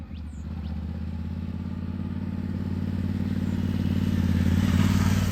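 An adventure motorcycle rolls slowly beneath a standing rider who shifts weight on the foot pegs, its engine a steady close low drone and rumble that builds gently toward the end.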